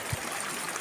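A river streams past in a steady, close wash of moving water, with one brief low knock near the start and no talk.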